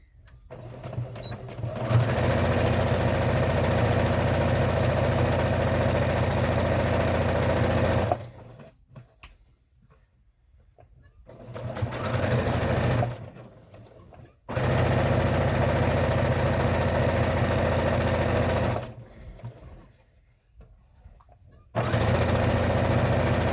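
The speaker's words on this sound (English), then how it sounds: "I have to sew down this side, across the bottom, and the other side, and I do that all in one thing." A sewing machine stitches a fabric bag in long, steady runs with a loud mechanical whir, stopping for several silent pauses before starting again.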